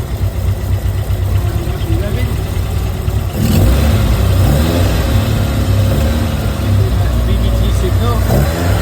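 A car engine running an Arduino variable valve timing controller idles steadily with a low, even rumble, briefly picking up slightly midway before settling back to a smooth tick-over.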